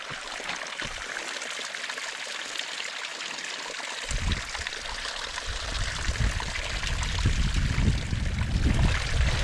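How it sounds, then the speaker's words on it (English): Water trickles and splashes off mossy rocks nearby on Peaked Mountain, New York, a constant rushing flow that grows fuller and louder partway through. "Just love how the water comes off the rocks with the moss."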